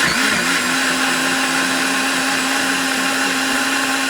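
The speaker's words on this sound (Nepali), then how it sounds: "चटनीहरू गर्न पऱ्यो भने चाहिँ म सधैँ मिक्सरमै बनाउँछु।" Mixer grinder blending tomato chutney, a loud continuous motor whine with a steady pitch that barely changes as it runs close by without pause.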